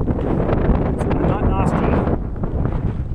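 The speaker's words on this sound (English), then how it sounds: "the wind has picked up again" Wind gusting across open countryside on the approach to the town of Viana, a steady broadband roar buffeting the microphone throughout, loud and close with no clear pauses.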